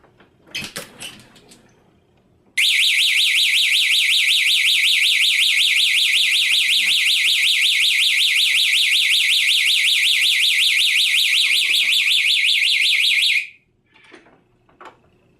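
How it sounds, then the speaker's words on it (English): A wireless door and window alert alarm, model WD 434RT, sounds a loud, continuous warbling electronic tone for about eleven seconds before being muted, with faint handling noises before and after. "the alarm is going to continue to sound until I press the mute button"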